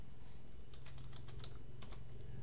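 A computer keyboard clatters with a short run of quick, light keystrokes, close and fairly quiet over a steady low hum, with no talking.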